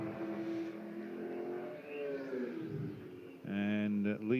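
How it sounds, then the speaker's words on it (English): A big Dodge Viper race car at a Tranzam event at Hampton Downs roars steadily into turn 1, its engine note sweeping in pitch before a louder, harmonic-rich burst of revving close by near the end. "Here comes the big Viper into turn 1."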